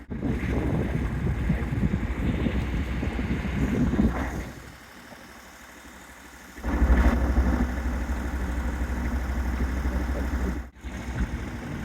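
A sailboat's engine idles steadily at about three knots with a southwesterly wind blowing. There is a low, constant drone, and heavy wind buffets the microphone, dropping away briefly in the middle before returning.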